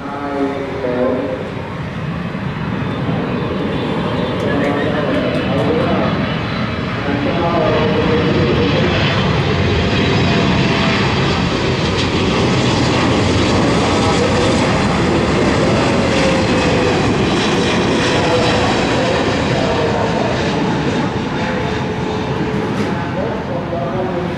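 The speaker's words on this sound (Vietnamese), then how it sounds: "Và bây giờ chiếc máy bay hạ cánh xuống đường băng 25 phải đã nha." A China Airlines Boeing 777-300ER lands on runway 25R at Tan Son Nhat airport, its jet engines roaring loud and steady throughout, swelling slightly as it passes close by.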